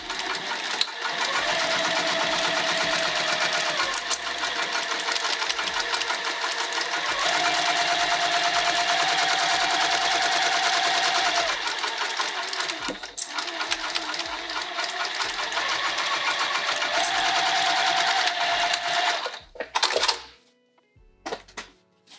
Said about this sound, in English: let's sew the back portion, the back pocket on